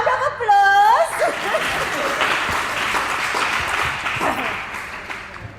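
An audience at a funeral gives a round of applause, a steady wash of clapping that lasts throughout. A laughing voice rises near the start, with a little murmuring and chuckling mixed in.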